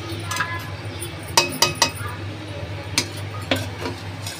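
Turmeric being stirred and roasted in a kadhai while making atta laddus, with a low steady hum, a few sharp metallic clinks of the spoon against the pan, and faint scraping between them.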